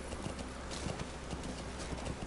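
Rapid hoofbeats of a horse galloping in the video game Metal Gear Solid V: The Phantom Pain, a steady clip-clop rhythm running continuously at close range, loud and alone with no voices.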